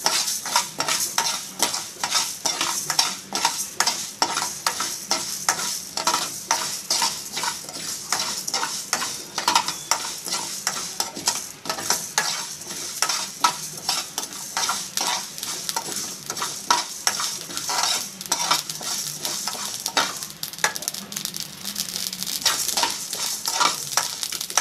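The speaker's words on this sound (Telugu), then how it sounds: "జీలకర్ర, మెంతులు, లవంగాలు, యాలకులు, ఆవాలు ఇవన్నీ కూడా ఫ్రై చేసేసుకోవాలి" Cumin, fenugreek, cloves, cardamom and mustard seeds dry-roasting in a pan without oil, with steady rapid scraping and stirring rattles and faint crackling of seeds throughout, close and continuous, no talking.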